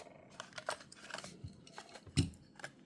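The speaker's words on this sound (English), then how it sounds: "I think I need to take my new knife out. This is it is getting a bit hard to cut these blisters." A knife cuts into the plastic blister pack of a Hot Wheels Lotus Cortina toy car, producing faint close snips, crunches and crinkles in an irregular sequence with one sharper crack.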